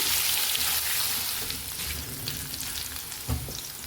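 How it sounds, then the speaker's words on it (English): Soya chunks and nugget-sized potato pieces fry in a pan while being stirred, giving a steady close sizzle with occasional scraping stir sounds and no talk. "Cook them for a couple of minutes, stirring continuously."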